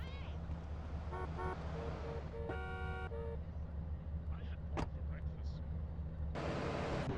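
A car is driven through GTA San Andreas, with a steady engine drone, a couple of short horn toots and other traffic sounds passing by, and a voice talking over it throughout.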